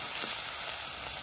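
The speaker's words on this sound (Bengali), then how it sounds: "তেলগুলো গরম হওয়ার পর পেঁয়াজ কুচিতে একটু নাড়াচাড়া করে নিয়ে ভাজা হয়ে আসলে" Chopped onions frying in hot oil in a pan, giving a brief, steady close sizzle with faint stirring.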